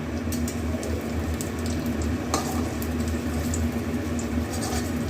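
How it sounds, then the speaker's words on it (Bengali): Round pieces of egg fry in hot oil for egg curry, producing a dense, continuous bubbling sizzle at steady loudness with a faint clink partway through. "এটা গোল গোল করে এবার ভেজে নেব।"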